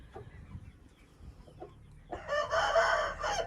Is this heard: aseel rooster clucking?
yes